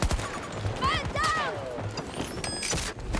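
Gunshots ring out in a shooter video game under a player's excited commentary. Shots and impacts come in quick irregular bursts, mixed with in-game effects, and the talking runs throughout.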